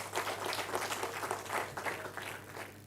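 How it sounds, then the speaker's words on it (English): An audience at an inaugural university lecture gives a round of applause: faint, fairly steady clapping from a crowd that keeps going for a few seconds with no voices over it. "Please give them a round of applause."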